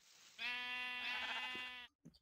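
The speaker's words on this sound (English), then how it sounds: "Ooh, another sheep." Sheep bleating in the Minecraft video game: one long, loud, wavering bleat lasting about a second and a half. A short faint sound follows after a brief pause, with no talking.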